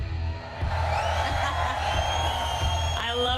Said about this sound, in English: We've got so many fans cheering these teams on along the way